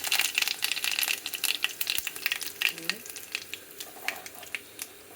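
Curry leaves crackle and sizzle sharply in hot oil, with a dense burst of popping that gradually thins out, accompanied by a few stirring clinks.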